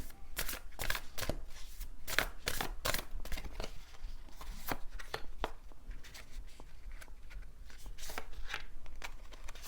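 Tarot cards are shuffled and drawn by hand, giving rapid papery riffles and flicks in bursts close to the microphone, with brief pauses between runs.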